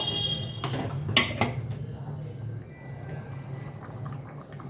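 Fried rohu fish pieces dropped into a pot of simmering curry, with a couple of sharp clattering impacts early on over a steady low bubbling, fairly close.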